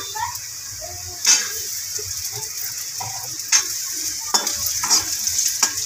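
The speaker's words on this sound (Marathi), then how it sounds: "बटाटे चांगले फ्राय करून घ्यायचे।" Potatoes and onions fry in a pan for a cabbage masala dish, giving a continuous close hiss with sharp spatula scrapes and taps at irregular intervals.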